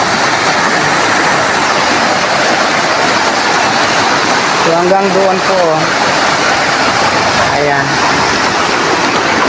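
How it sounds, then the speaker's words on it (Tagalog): Loud, steady rushing of water fills the scene, with someone talking briefly partway through. "ito yung pinakagitna niya ayan, napakalakas ng tubig"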